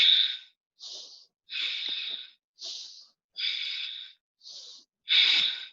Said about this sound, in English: Deep inhale and exhale through your nose.